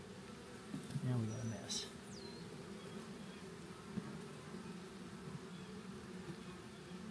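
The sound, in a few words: honey bees buzzing in an opened hive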